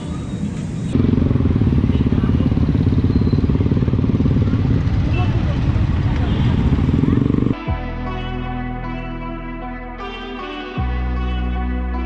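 Many motorcycles ride together at a large rally in Kolkata, a loud continuous roar of engines close by that later shifts to a steadier, tonal drone.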